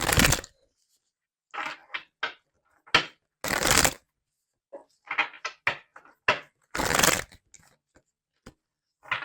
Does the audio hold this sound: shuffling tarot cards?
yes